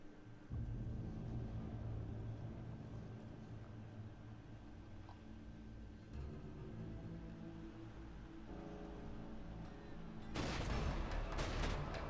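Enemy gunfire in Borderlands 2 arrives as a quiet, distant rumble of shots under game ambience, then erupts into a sudden loud rapid volley near the end.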